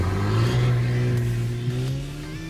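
Porsche Cayenne S V6 engine revving, a steady howling drone that swells early and then eases slightly while holding its pitch, close and alone with no talk.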